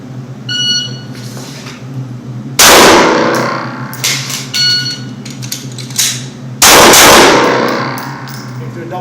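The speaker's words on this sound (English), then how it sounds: "I'm going to fire my 2 rounds" Two loud pistol shots ring out several seconds apart during a live-fire drawing-from-the-holster drill outdoors, each a sharp crack with a ringing tail, set against a steady low background hum and scattered handling noise.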